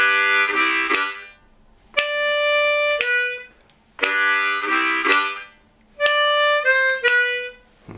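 Harmonica bonus lick 3 alternates breathy chugging chords with clean held single draw notes, in an even repeating rhythm, played close and loud, with no voices.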